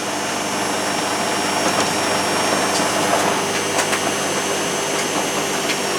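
A heater runs steadily on its high setting during a wattage test near 1500 watts, giving a constant fan-like whir and hum that stays even and moderately loud throughout.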